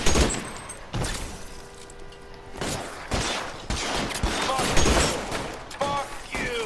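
Gunfire from the video game L.A. Noire, with repeated sharp shots and bursts scattered through a chaotic firefight, mixed with game voices and impacts.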